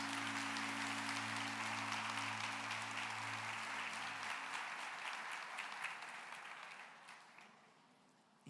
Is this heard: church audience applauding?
yes